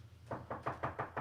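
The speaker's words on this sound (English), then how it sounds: "Knock on wood if you're with me." Five knocks on wood come in a steady, evenly spaced rhythm, each a short sharp rap, close and fairly loud with nothing else heard.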